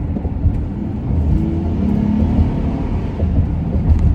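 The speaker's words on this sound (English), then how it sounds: "My car just freaking lost power." A car losing power while being driven, its engine note whirring and rumbling, rising briefly then sagging and fading unevenly over a few seconds.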